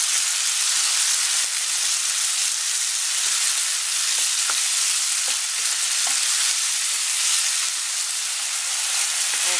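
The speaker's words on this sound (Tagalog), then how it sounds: "lagay po natin itong ating tomatoes. So, hintayin natin maluto itong tomatoes." Tomatoes sauté in a pan for a clam soup, throwing off a loud, continuous close-up sizzle with a steamy hiss and occasional faint clicks of stirring throughout.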